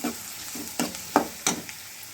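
Ingredients with finely chopped ginger are sautéed and stirred in a hot pan: several quick, irregular scraping strokes over a soft sizzle, close and clear, with no voices.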